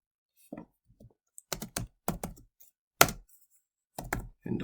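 Keys on a computer keyboard are typed in short, distinct bursts of clicks as code is entered, close and clear with quiet gaps between the clusters and no talking.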